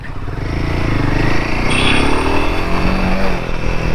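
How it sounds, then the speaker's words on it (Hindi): A Royal Enfield Himalayan 450 is ridden at low revs, its single engine giving a steady, close, throbbing thump with some wind rush and a slight rise in pitch partway through. "now once the bike is in motion, it is giving the proper thump."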